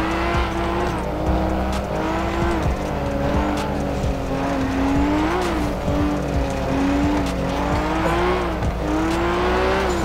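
Cars racing in GTA5 street racing, engines roaring continuously with repeated sharp tire squeals and skids, loud and close throughout.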